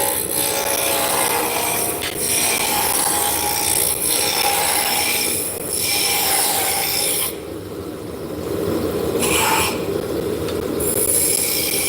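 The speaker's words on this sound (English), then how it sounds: "we sand the bottoms out while we're sanding the arms of the spindles" Steady, rasping abrasive rubbing against a wooden drop-spindle goes on continuously, with a few short pauses and changes in pressure, close and fairly loud.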